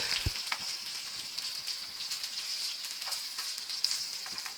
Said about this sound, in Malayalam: ഇത് ഒരുപാടങ്ങ് മൂപ്പിക്കണ്ട, ഒന്ന് ഷാലോ ഫ്രൈ ചെയ്താൽ മതി.